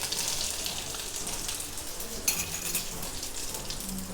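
Mustard seeds and urad dal sizzling in heated oil: a steady crackling hiss like light rain with small pops and one sharper spatter, fairly close, no voices.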